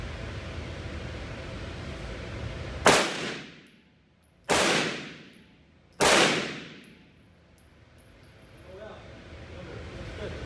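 Three loud gunshots crack at a shooting range, fired at targets, the first and second about a second and a half apart and the third soon after, each with a sharp attack and a fading echo over steady background noise.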